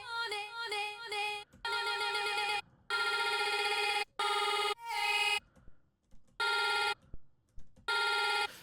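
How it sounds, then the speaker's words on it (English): Bright, tonal synthetic bursts from a granular effect on a vocal in the Serum 2 synth stutter and chop on and off, a glitchy texture of short droplet-like repeated fragments separated by abrupt silences. "As we turn that up, you'll hear more like grain, like droplets of the sound."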